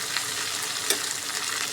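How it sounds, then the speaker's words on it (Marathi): A chopped onion sizzles steadily in hot oil for an egg masala, a dense continuous frying hiss with a brief louder crackle partway through. "एक कांदा टाकते"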